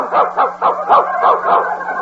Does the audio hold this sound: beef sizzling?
no